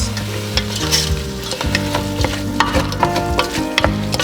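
Garlic and a spoonful of balsamic vinegar stirred in a hot pot for a pot roast, with steady loud sizzling and frying and repeated scraping stir strokes, no voices.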